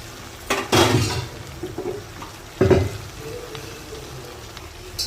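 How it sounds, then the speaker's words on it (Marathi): Soybean chilli being stir-fried in a pan, with two loud sizzling bursts as ingredients are tossed, then a steady low crackle of frying in between. "आता हे चांगलं परतून घेणार आहोत"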